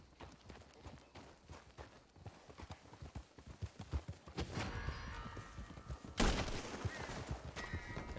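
Donkey hooves clip-clop in a steady galloping rhythm in Red Dead Redemption 2 Online, growing louder and denser midway with a sharp burst near the end, no talking over them.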